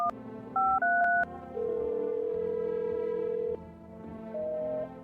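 Telephone number dialed in a video game, a quick series of distinct touch-tone beeps followed by longer sustained tones, clear and close with no voices.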